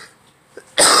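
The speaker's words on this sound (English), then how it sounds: "finally getting over it, but I still have the cough and everything." A single sharp, loud cough bursts out at the end from someone recovering from an illness, after a quiet moment with a small throat sound.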